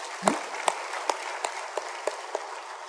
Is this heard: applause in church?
yes